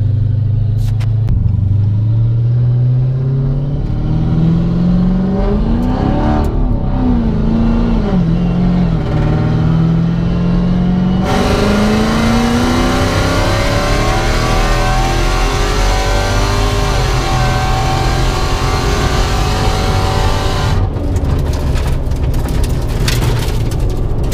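Dodge Hellcat engine revving hard and accelerating in a close, loud pull, pitch climbing through gear changes, with a roaring rush of wind and road noise as it gathers speed.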